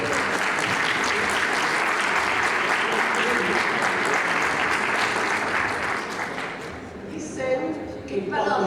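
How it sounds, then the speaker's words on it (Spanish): Audience applause at an event on artificial intelligence training for teachers, dense steady clapping for several seconds that thins out and fades, followed by a voice. "Por supuesto, un aplauso"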